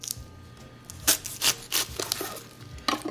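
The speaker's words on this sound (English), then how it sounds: "let's start chopping our vegetables." A knife chops vegetables on a cutting board while preparing caldo de pollo, a Mexican chicken soup, giving a few irregular close thuds and scrapes over a quiet kitchen background with no talking.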